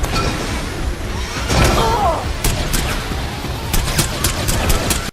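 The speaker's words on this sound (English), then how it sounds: "She's shooting silenced pistols, but these pistols are not silenced." Suppressed pistol shots from the Black Widow film, a run of sharp cracks coming fast and close amid busy action noise, with a voice talking over them.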